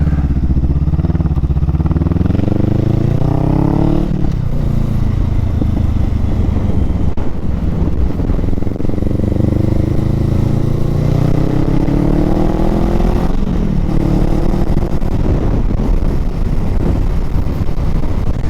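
Motorcycle riding at speed, recorded on a helmet-mounted mic: a loud, steady engine drone with rising and falling revs through gear changes, overlaid with constant rushing wind noise.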